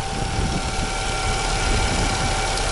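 A 2-liter 16-valve Twin Spark car engine idles steadily with a low, constant rumble and hum, close by and uninterrupted.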